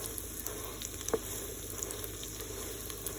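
French toast bites sizzle steadily in a pan, a soft continuous frying hiss with one brief clack as a piece is flipped, close and fairly quiet.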